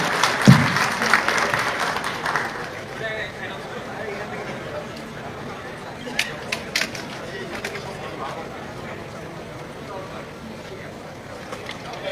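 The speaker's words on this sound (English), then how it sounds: "A big round of applause for all of them, ladies and gentlemen" Applause from a summit panel audience at the Bangladesh Investment Summit in Dhaka, burst loudest at the start, then thinning to scattered claps and murmuring chatter with a few sharp knocks.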